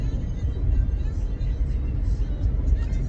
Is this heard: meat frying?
no